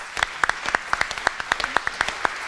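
Scattered applause from a small audience at a community meeting on homelessness in Bakersfield, distinct individual claps in an uneven rhythm, fairly close and moderately loud, with no talking.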